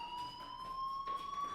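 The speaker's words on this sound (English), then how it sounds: "do you hear that fire alarm? That means you should be outside." Fire alarm ringing in the Life is Strange video game, a steady electronic tone with bright harmonics that holds loud and unbroken for the whole stretch, with no talking over it.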